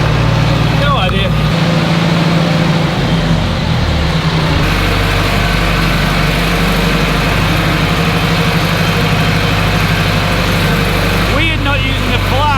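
A new tractor's engine runs steadily from start to finish, a close, heavy low drone with a constant idling rumble, and voices can be heard over it.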